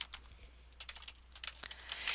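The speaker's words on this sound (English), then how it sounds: "go ahead and type in his address" Typing on a computer keyboard while entering an address into a QuickBooks invoice: a faint, irregular run of light key clicks, sparse at first and then in quicker bursts toward the end.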